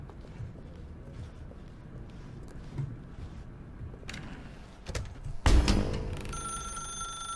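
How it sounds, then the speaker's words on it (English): A telephone rings in The Stanley Parable, a bright electronic ring entering late and carrying to the end over soft ambient room sound and a few footstep-like knocks. "I'm answering the phone, okay?"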